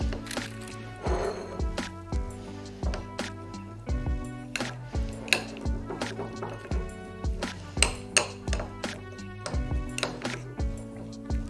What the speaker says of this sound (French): on va prendre les pois chiches, les mélanger dans le chocolat.